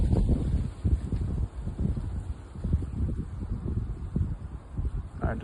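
Wind rising through a forest, a steady rushing roar with low gusty buffeting against the microphone, constant and fairly loud throughout with no voices.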